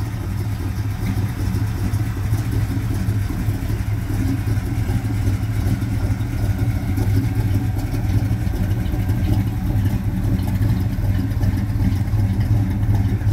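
An old truck with a 350 engine and a 4-speed idles steadily up close, a loud, even rumble that stays constant throughout with no talking over it.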